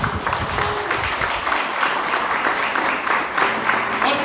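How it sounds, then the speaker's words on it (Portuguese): A church congregation applauds steadily, a continuous wash of many hands clapping with faint voices underneath. "Você pode aplaudir a Jesus por essa palavra?"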